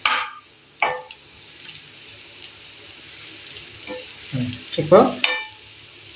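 Ginger garlic paste fries in a pan for egg rice, heard as a soft background sizzle broken by a few sharp utensil scrapes and clanks near the start and end, with a brief spoken word.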